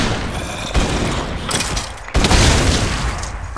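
Rapid gunfire from a hostile mob in Minecraft, loud and sustained with a brief lull near the middle before resuming just as dense.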